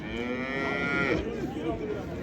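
A large cow gives one long, loud moo close by, deep and drawn out, against a faint background of livestock market noise in Shahrisabz.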